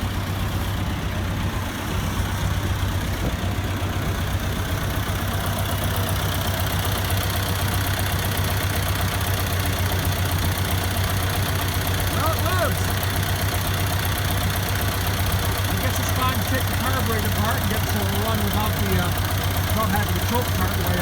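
A loud old John Deere 3300 combine engine, fitted with Dodge parts, runs continuously close by, with a steady rumbling drone and rattling knock that never lets up.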